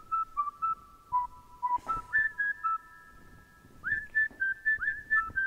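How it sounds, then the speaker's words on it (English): A clear, tuneful whistled phrase of short rising and falling notes, moderately near, in two bursts separated by a brief pause, with no talking over it. "whenever we hear that whistle, that means that somebody is around"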